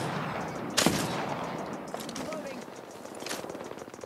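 A Longbow sniper rifle firing in a shooter video game: one sharp, loud crack followed by fainter scattered gunfire and clatter.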